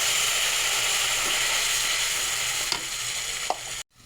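Onion, tomato, ginger paste and green chili paste sizzle and hiss steadily in a hot pan, with faint stirring scrapes, before the sound cuts off abruptly near the end.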